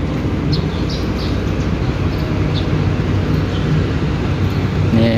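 Steady loud rumble inside the Fajar Utama Solo passenger train while it stands at Kutowinangun station, a continuous low roar with faint chirps above it.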